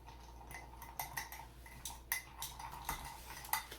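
A spoon stirs cocoa powder in a bowl for vegan brownies, giving soft, irregular clinks and scrapes against the bowl, fairly faint and close, with no talking.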